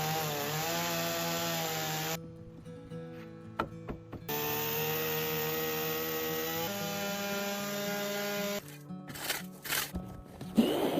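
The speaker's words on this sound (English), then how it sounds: "the wooden logs are started to be cut with a chainsaw" A chainsaw runs loudly and steadily while cutting through wooden logs at a forest cabin build site, its pitch shifting as it bites, with short pauses between cuts.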